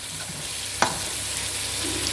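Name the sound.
carrots sizzling as they are added to the pan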